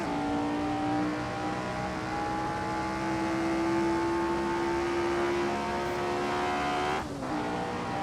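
Race car engine in a Monza racing video game holds a steady high-pitched drone at sustained speed, then briefly drops in pitch as it shifts gear near the end; loud, continuous, no talking.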